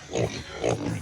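Pigs on a pig farm grunt and oink in two close, loud bursts, one after the other.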